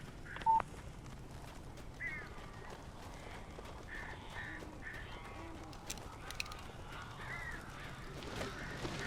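Crows caw in scattered, fairly faint calls over a quiet, dark ambient bed in Alan Wake Remastered, with a brief sharp electronic tone near the start.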